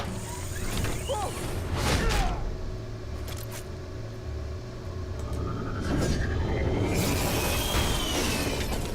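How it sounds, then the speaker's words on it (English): Heavy doors opening mechanically in Batman: The Telltale Series, with a long sequence of clanking, whirring and sliding machinery over a steady low hum, swelling in two loud stretches. "Opening the doors now."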